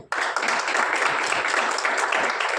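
An audience bursts into applause at a welcome during a gathering, dense continuous clapping that starts sharply and holds loud and even for a couple of seconds.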